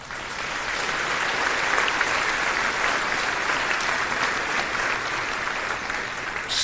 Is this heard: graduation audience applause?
yes